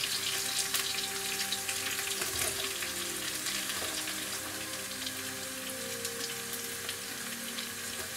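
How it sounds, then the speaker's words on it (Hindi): Onions and green chillies fry in a pan for a mixed vegetable stir fry, giving a steady, dense sizzle that stays close and fairly loud throughout with no voices. "अब मैं इसके अंदर ये प्याज डाल दूंगा"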